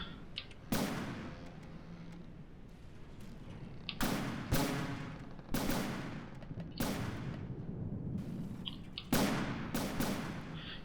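Ship guns in the naval building game From the Depths fire about nine heavy, booming shots at irregular intervals, each a sharp, loud blast that rolls off into a rumbling tail.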